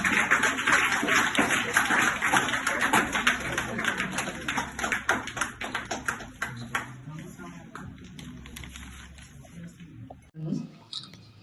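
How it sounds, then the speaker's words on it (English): An audience applauds at a Teacher's Day celebration in an institute, a dense, loud burst of many clapping hands that thins out and fades over several seconds before a brief murmur. "Please give a big round of applause."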